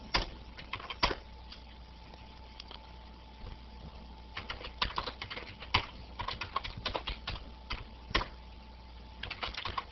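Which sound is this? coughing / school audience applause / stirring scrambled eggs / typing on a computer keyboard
typing on a computer keyboard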